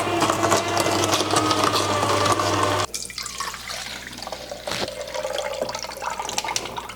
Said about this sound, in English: let's go ahead and turn on our juicer